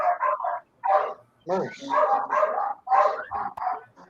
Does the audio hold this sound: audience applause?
no